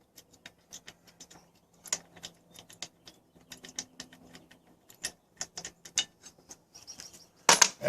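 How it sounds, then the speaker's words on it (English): Scattered light metallic clicks and ticks from a wrench working a bolt loose on a 2000 Mercury 40hp outboard, quiet and irregular, closing with a brief louder rattle. "We'll take this bolt out."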